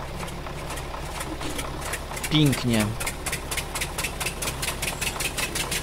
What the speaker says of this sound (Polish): No, tylko musimy rozbujać silnik.